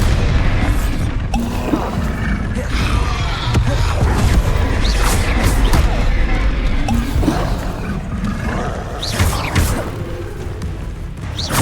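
Bombarda explosion spell in Hogwarts Legacy, a loud booming blast with crunching debris and rumbling impacts that churn continuously, heavy low-end thuds repeating over the game's noisy combat backdrop.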